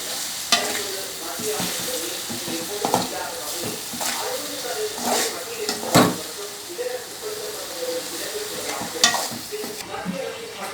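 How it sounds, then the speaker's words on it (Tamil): Ingredients stir-fried in a pan with eggs about to go in: a steady sizzle runs under repeated scraping and clattering strokes of a spoon against the metal, with a few sharper knocks along the way. "இப்போ நல்லா மிக்ஸ் பண்ணிக்கலாம்."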